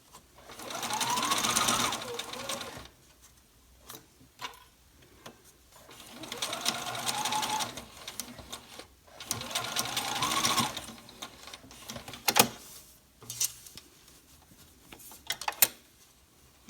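A sewing machine stitches fabric for a face mask with elastic straps, running in three sustained bursts of whirring, with short pauses and faint handling clicks between them.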